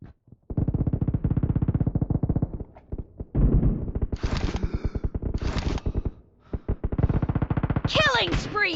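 Rapid bursts of automatic gunfire in a team deathmatch shooter game, loud and close, with pauses between volleys, a spoken game announcement and a whooshing effect near the end.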